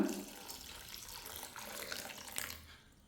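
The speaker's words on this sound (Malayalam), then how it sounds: "ഇനി ഇതിലേക്ക് വെള്ളം ഒഴിച്ചു കൊടുക്കാം" Water pours steadily into a container, a soft continuous splashing flow that fades away at the end.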